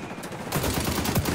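Gunfire in the shooter game XDefiant bursts in suddenly after a quieter moment, a dense rattling volley of rapid shots, loud and close.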